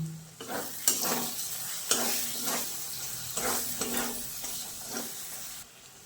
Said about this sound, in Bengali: ভালো করে মশলা কষা হয়ে গেছে, তেল ছেড়ে দিয়েছে।